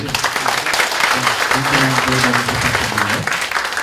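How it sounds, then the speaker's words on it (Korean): An audience at a health lecture applauds a university professor, a sustained burst of dense clapping from a seated crowd with some voices mixed in. "우리 권혁준 교수께 큰 박수 좀 부탁드릴게요"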